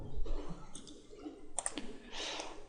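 Computer mouse clicks while working in Autodesk Inventor CAD software: a few sharp, close clicks, with a small cluster near the middle, over a quiet room background.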